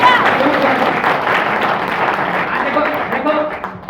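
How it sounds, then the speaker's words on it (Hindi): Applause from a church congregation during a sermon, a steady wash of clapping that fills the whole stretch with voices and cheers mixed in. "तालियां मारो परमेश्वर"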